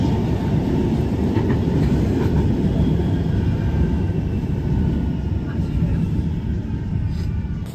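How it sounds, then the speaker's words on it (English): A tram rumbles steadily up close, arriving at St Peter's Square stop in Manchester, a continuous low mechanical drone and rattle filling the whole stretch with no clear stop or start. "And the tram is now here."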